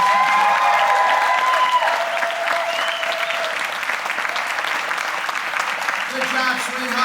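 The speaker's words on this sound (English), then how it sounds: "I will leave it up to you folks and the sound of your applause to indicate if I came close." An audience bursts into loud, dense applause mixed with cheering and crowd voices, a steady roar of clapping that holds throughout.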